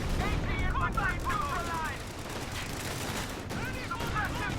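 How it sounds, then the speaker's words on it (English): Stuka rocket barrage pounding the center of a Company of Heroes 2 4v4 battle: a continuous roar of rocket launches, whistling streaks and blasts layered with gunfire, loud and unbroken across the whole stretch. "Triple Stukas operating in the center, constantly barraging the area."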